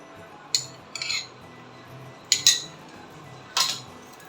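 A spoon clinks against a glass or cup as milk and rose syrup are stirred for watermelon sharbat, giving four sharp, bright taps in separate bursts over faint background hiss.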